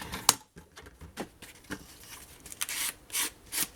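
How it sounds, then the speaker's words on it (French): Paper for a pink Christmas scrapbook album is sanded by hand in short, irregular rasping strokes, quiet and close, with brief scratchy bursts and pauses and no talking. "Ici, il faut que j'aille sabler."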